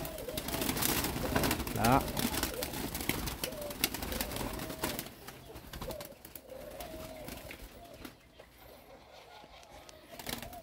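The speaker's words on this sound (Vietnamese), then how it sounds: "chị mới bắt một con cu cườm với con bông" A spotted dove gives repeated low, soft coos close by against a noisy background, with a person briefly speaking.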